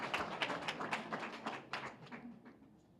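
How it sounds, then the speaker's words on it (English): An audience at a youth leadership academy graduation ceremony claps and applauds, a dense burst of hand claps that is loudest at the start and gradually thins and fades over a few seconds. "Let's give a round of applause for that."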